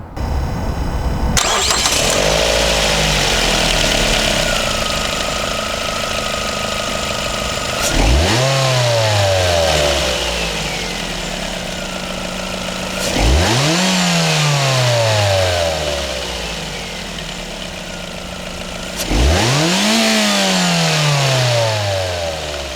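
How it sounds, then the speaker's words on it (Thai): A Ford Focus Mk2 hatchback engine cranks and starts, then revs up and settles several times, each rev rising and falling in a loud sweeping roar. "มาฟังเสียงเครื่องยนต์กัน"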